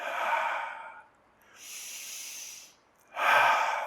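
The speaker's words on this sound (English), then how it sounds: "2 breaths here." Deep, deliberate breaths during a children's chair yoga pose: a strong breath in, a softer breath out, then another forceful inhale, close to the microphone and clearly audible, with no talking.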